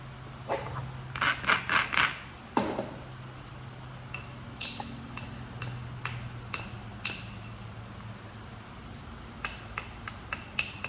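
Stone knapping: sharp percussive strikes knocking flakes off a stone edge, a quick cluster of clinking hits early then spaced single cracks, close and fairly loud over a low steady hum.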